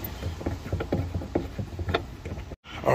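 A small plastic screw holding the spare tire in a Subaru Crosstrek trunk is turned loose by hand. It gives a series of close, soft ratcheting clicks and scrapes at an uneven rhythm, then a brief silence and a final rustle.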